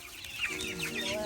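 Two-week-old chickens cluck and peep close by in a short burst of overlapping soft calls, several birds at once.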